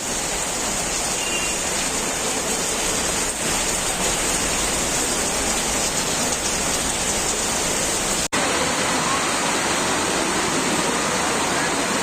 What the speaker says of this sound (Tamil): கடலூர் மாவட்டம் திட்டக்குடி பகுதியில் இடி மின்னலுடன் கனமழை கொட்டி தீர்த்தது